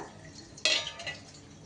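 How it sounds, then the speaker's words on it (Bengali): Stirred vegetables are tipped all at once into a pan with mashed boiled potato. A sudden soft thump and rush of sizzling rises sharply, then fades over about a second against a low steady background. "তারপরে দিয়ে দিচ্ছি যে সবজিটা আমি নেড়ে রাখলাম সেই সবজিটা দিয়ে দিলাম পুরোটা"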